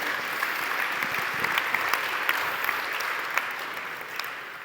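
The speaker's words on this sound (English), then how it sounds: "you have applause" An audience gives steady, sustained applause at the official unveiling of the Solar Impulse 2 solar airplane, a dense even clatter of many hands with a few sharper claps standing out.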